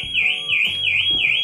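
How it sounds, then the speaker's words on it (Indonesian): A Range Rover Evoque car alarm wails nearby after the door is opened with the key, a loud rising and falling siren tone repeating in quick regular sweeps. "Ini alarm akan berbunyi selama mobil belum dikontak on."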